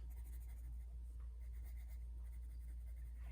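A pencil scratches across paper in a drawing lesson, soft, continuous strokes heard faintly over a low steady hum, with no voices.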